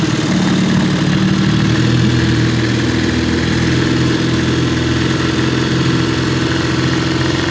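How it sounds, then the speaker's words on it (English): A 1953 Elgin 5.5 hp outboard motor, sold by Sears and Roebuck, runs on a pond with a steady, loud, close droning hum that holds the same pitch throughout, with no talking. "This motor was built in 1953."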